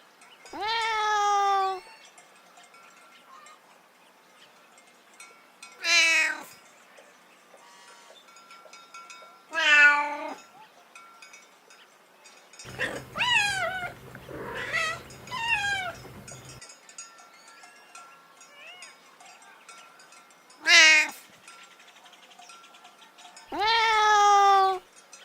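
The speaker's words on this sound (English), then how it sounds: "Cat." A domestic cat meows repeatedly, clear and close, in a series of separate drawn-out calls spaced several seconds apart, with one longer burst of caterwauling in the middle.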